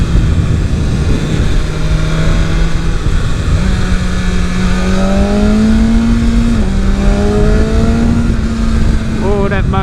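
A 2023 BMW S 1000 RR motorcycle on the street, its engine droning loudly and steadily with stepped rises in pitch as it accelerates through gears, while the rider talks over it.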